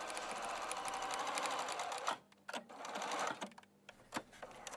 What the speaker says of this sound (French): Surpiquer les contours de la fente pour maintenir la valeur de couture en place.